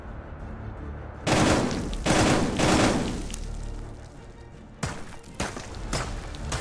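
Rapid bursts of video game gunfire, loud and dense, arrive in several volleys separated by brief gaps, with sharper single shots toward the end of a VR shooter match.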